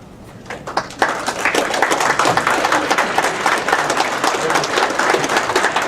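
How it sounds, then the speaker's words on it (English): An audience at a public hearing bursts into sustained applause, with dense, loud clapping that starts abruptly and holds steady throughout. "Please hold your applause."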